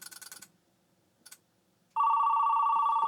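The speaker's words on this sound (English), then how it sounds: "The phone's ringing." A few short bursts of tones from a vintage Zenith ZT-1 modem-only terminal dialing a BBS are followed by silence, then a loud, steady telephone ring that starts suddenly and continues to the end.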